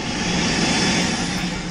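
A helicopter in the Swiss Alps produces a loud, steady engine and rotor roar filling the whole moment without pause.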